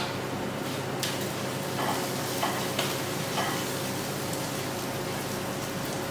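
Tomatoes tipped into a hot frying pan with an Italian-style sauce base, giving a steady close sizzle with a few stirring scrapes and bursts, no talking.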